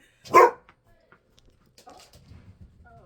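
A dog gives one loud, sharp bark near the start, followed by quieter faint sounds and a low rumble later.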